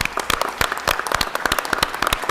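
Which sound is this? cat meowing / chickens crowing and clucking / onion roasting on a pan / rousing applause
rousing applause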